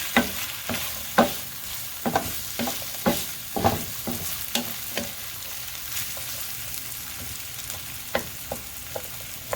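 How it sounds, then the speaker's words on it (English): Sliced baby bella mushrooms frying in a pan, with a steady sizzle and close, irregular clicks and scrapes as they land and are moved around. No one speaks. "The only thing I need to do is slice our mushrooms. Straight into the pan."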